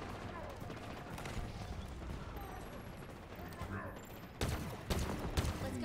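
Gunfire from the video game Halo Infinite crackles in dense, continuous volleys with sharper bursts near the end, heard over game ambience during a multiplayer session.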